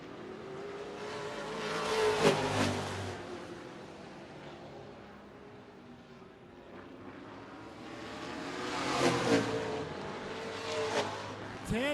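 Late model race cars at Redwood Acres Raceway roar past in two loud waves, engines rising and falling as the pack comes out of a turn, with a steady engine drone in between.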